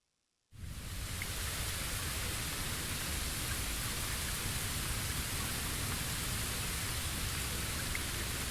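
After a brief silence, rain starts abruptly and falls heavily, a dense, even hiss that stays loud and constant to the end with no voices.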